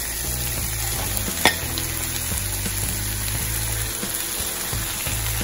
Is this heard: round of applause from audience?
no